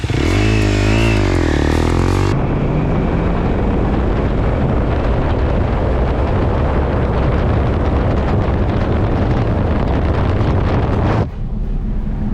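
A loud, continuous motocross trial motorcycle engine on a dynamometer drones steadily for several seconds, revving unevenly, with wind buffeting the microphone, then drops off abruptly near the end.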